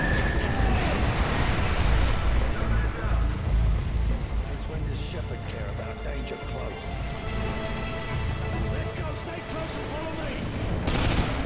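Call of Duty Modern Warfare 2 artillery strike: heavy rumbling explosions and crashing impacts pound together with scattered gunfire, loudest at the start and easing into a rolling din, while voices speak over the battle.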